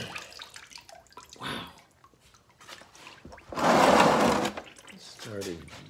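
Water gushes from the engine of a 1952 Ford 8N tractor with a freeze plug problem, a loud rushing splash of about two seconds amid speech from someone talking before and after.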